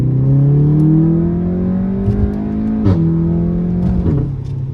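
Close engine drone from inside a car on a test drive, revving up through the gears with pitch climbing and then dropping at two shifts, steady and loud.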